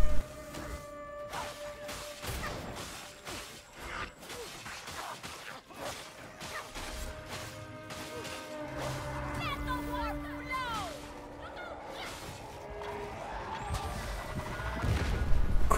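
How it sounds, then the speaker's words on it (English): Melee combat in Warhammer 40K Darktide, with blades cutting into enemies: irregular sharp impacts and crashing hits over the game's tonal background, getting busier and louder toward the end. "Cutting things up sounds good."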